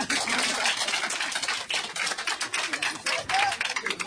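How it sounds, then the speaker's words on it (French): A gathered crowd claps vigorously and rapidly, close by and sustained with uneven bursts of sharp hand claps throughout. "Applaudissez ça d'abord."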